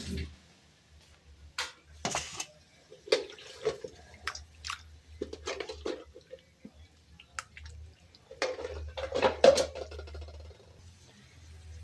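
Water splashing and dripping while raw meat, about 2 kilograms, is washed by hand, soft irregular splashes and drips heard close up and fairly quiet.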